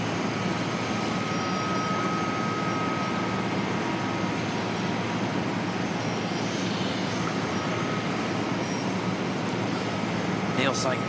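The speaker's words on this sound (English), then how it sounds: "First of 2 A380 landings." A Singapore Airlines A380 jet lands at Auckland Airport, heard as a broad, steady engine roar that stays loud and constant throughout, with faint voices beneath it.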